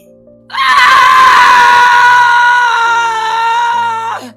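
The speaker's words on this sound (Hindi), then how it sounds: "एक चीख गूंजी" A loud, sustained scream from a ghostly burned figure in a haunted rental room, one long piercing cry lasting about four seconds with no talk over it.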